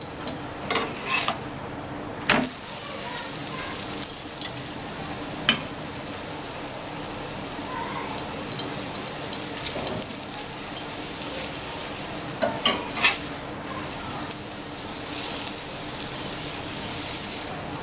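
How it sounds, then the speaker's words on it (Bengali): An aloo paratha frying in oil on a pan, a continuous close sizzle broken by a few sharp louder pops and scraping touches, with no talking. "কিছুটা তেল আমি পরোটার উপরে একইভাবে দিয়ে দেব।"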